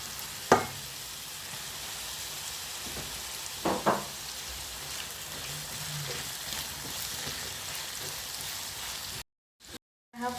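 Small chopped potatoes fry in a pot for Nigerian jollof rice, giving a steady close sizzle with a few stirring scrapes before it cuts off briefly at the end.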